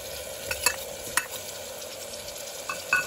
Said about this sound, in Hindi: मसाले को अच्छे से भून लेंगे।